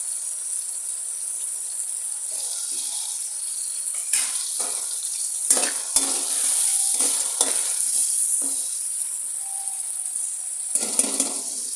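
Garlic, ginger and spices frying in a pan for a mixed-vegetable pulao, a loud continuous high sizzle with repeated scraping stirs and clanks of a spoon against the pan, building in bursts throughout.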